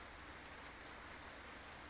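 Steady rain falling on a rainy night, a continuous even hiss of drops on surfaces with no other sounds over it.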